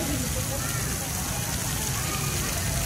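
A fountain's water splashing steadily and densely, much like heavy rain falling, fills the whole stretch at an even loudness, with a crowd of people nearby at a family holiday outing.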